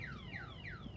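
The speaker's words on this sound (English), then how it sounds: "zone 563 just went into alarm." A security alarm siren sounds steadily, three descending electronic sweeps repeating in a loud, continuous wail with no talk.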